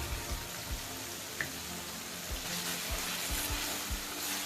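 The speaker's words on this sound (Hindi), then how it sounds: "अब मैं इसे भून रही हूँ।" Chopped tomatoes, already softened, sizzle and fry in a pan for radish masala bhaji, a steady broadband crackle with soft low stirring thumps recurring throughout, close by and without speech.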